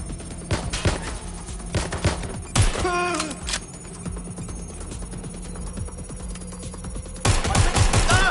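Rapid bursts of gunfire from the Watch Dogs: Legion video game crack in quick clusters, mixed with game effects and a brief ringing tone, with a louder volley near the end.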